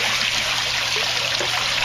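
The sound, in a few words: water pumped through aquaponics pipe into tank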